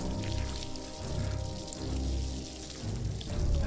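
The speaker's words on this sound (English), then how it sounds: "Okay, let's get this goat wet." Water pours over a goat in the VR game Deadly Daycare VR, a steady splashing, rain-like rush that holds at an even level throughout.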